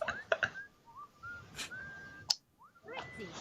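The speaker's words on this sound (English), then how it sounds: "I'm gonna do a whistle." A character in Fable II whistles a few short rising and falling notes, bright and clear, with brief pauses and small clicks between phrases, no talk.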